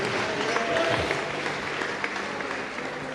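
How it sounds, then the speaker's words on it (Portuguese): A church congregation applauds together, a dense, steady wash of clapping filling the room for the whole stretch, with some crowd voices mixed in. "aplauda o Rei Jesus e tome o seu assento"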